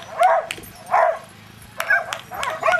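A dog barking during a retrieve competition, four loud yipping barks spaced about a second apart, close by, with crowd or background noise between them.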